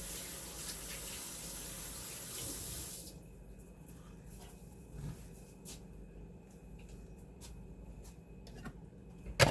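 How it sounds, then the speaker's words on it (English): Hands are washed under a running tap, with a steady, fairly loud hiss of water for about three seconds. The flow then stops, leaving quiet room tone with faint drips and small clicks. "Wash my hands real quick."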